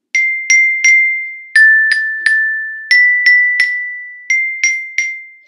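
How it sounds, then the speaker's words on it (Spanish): A children's song melody is struck on a metallophone: about fifteen bright, ringing metal notes in short phrases, each tone decaying quickly, played alone with no talking. "Este es el metalofón."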